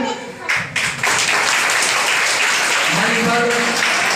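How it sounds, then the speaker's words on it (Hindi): Audience at a parent-teacher meeting in a Bihar school applauds to welcome a fellow teacher, clapping rising after a brief pause and continuing steadily, with faint voices mixed in. "तालियों की गड़गड़ाहट से हमारे सहयोगी शिक्षक साथी का स्वागत करें"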